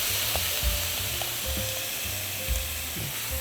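Butterbur stems coated with perilla seed powder sizzle steadily in a pan, a continuous close frying hiss with soft scraping stirs underneath, no voices.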